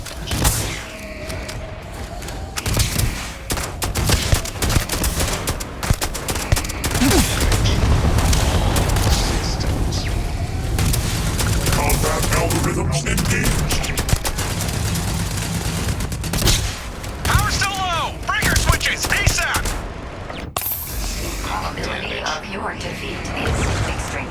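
Gunfire in the video game I Hate the Mud: continuous loud bursts of shots and thuds mixed with mechanical clatter and booms, with a voice speaking intermittently over the battle.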